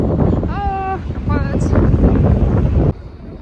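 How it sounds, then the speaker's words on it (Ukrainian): Steady roaring wind buffets the microphone throughout, with brief voices and a high whistle-like tone early on, before the rumble drops abruptly near the end. "сьогодні так вітряно з голову"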